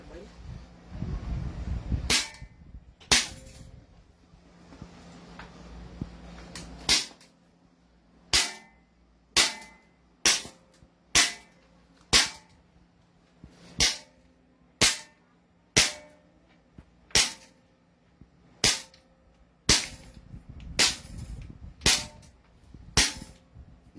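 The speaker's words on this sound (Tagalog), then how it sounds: "Pagpa-fire natin yung ating airsoft ngayon." A CZ Shadow 2 airsoft pistol fires about sixteen sharp, loud shots at irregular intervals, close by, with voices talking between some of the shots.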